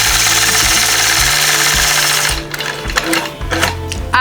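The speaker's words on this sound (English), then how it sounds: "I loved machine quilting those hearts." A sewing machine quilts heart shapes guided by a mini 4-in-1 ruler, its needle running in a steady fast mechanical hum, loud and close, with brief pauses and restarts in the second half.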